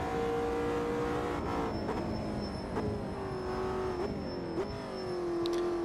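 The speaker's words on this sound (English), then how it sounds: "So we're in the McLaren GT3, and we'll take this on the GP track" McLaren GT3 race car in Automobilista 2 on the GP track, its engine droning loud and close as it climbs through the gears, with several clear upshifts and dips in pitch over a steady roar, no voices.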